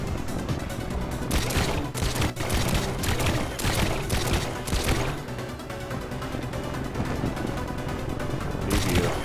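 Guns blasting from a Borg-style creation in the Trailmakers building game, a dense, continuous barrage of rapid shots and crashing impacts, loud and relentless throughout.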